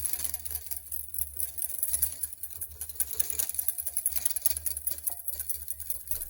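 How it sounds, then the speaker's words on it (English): A whisk beats butter into an egg sabayon for hollandaise sauce, making a quick, steady patter of soft metallic ticks against the bowl that runs throughout with no talking. "we're going to do just a few drops to start and get that whisked in and emulsified"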